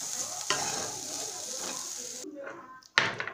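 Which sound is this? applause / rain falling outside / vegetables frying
vegetables frying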